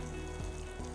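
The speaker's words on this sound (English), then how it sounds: "Now to this, I'll add the sliced vegetables." Sliced onion, capsicum and tomato with ginger hitting a hot pan for paneer jalfrezi, a close continuous sizzle over a low steady hum lasting about a second.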